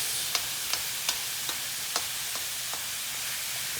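Tomatoes and onions sizzling in a pan for spaghetti pomodoro, a steady bright frying hiss broken by regular soft knocks of stirring.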